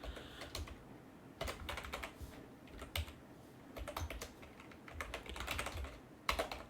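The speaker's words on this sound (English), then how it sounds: "you know that I do not type in a very sloggy way that I am doing now. It is all because of keyboard" Someone types on a computer keyboard in quick irregular bursts of clicking, with short pauses between runs. The keys sound close but quiet, and nobody speaks.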